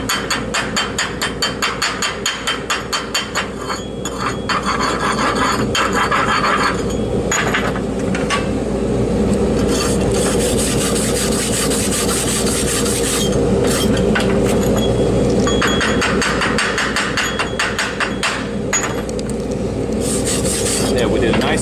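Hammer chipping slag off a heavy-duty flux core dual shield weld, with fast rhythmic metallic tapping at first, then continuous scraping, rasping and knocking, loud and close.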